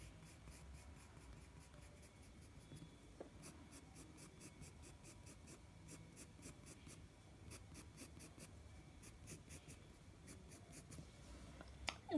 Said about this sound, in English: Next, I'm directly gonna go to my 8B pencil. Gonna darken these nostrils nice and clear.